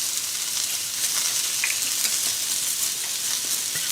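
Celery, onion and peppers stir-fry in a hot pan, a steady, loud bright sizzle with small spits and crackles as they are stirred, no talking.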